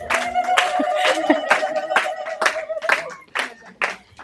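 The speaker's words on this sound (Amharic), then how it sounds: "ኧረ እልልታ ጭብጨባ።" An audience at a book launch claps in a brisk, uneven burst while a high, warbling ululation rises over it, then the applause thins and fades out toward the end.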